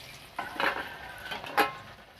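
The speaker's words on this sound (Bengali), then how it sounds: "বন্ধুরা তেলটা দেখুন তেতে গেছে, এবার আমি এই পকোড়া দিতে থাকবো," Cauliflower pakoras dropped into hot oil, giving a soft steady sizzle with a couple of brighter splashy crackles and a light utensil clink as each piece goes in.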